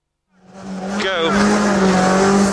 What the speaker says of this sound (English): Off we go, getting the revs up.